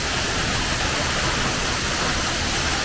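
La Chorrera, a 590-metre waterfall in Colombia, heard as a steady, unbroken roar of falling water, loud and close, with no voices over it.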